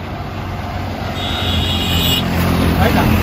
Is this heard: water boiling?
no